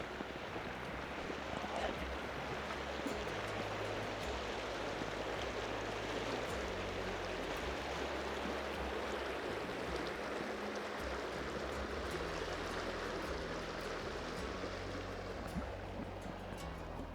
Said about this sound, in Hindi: दरमियान में से ये पानी बह रहा है।